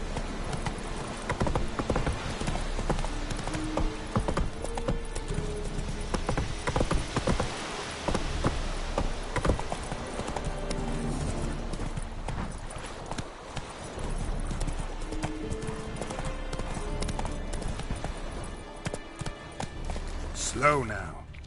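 Horse hooves galloping in The Witcher 3, a steady rapid clip-clop of hoofbeats running throughout, mixed with game ambience and a voice speaking over it.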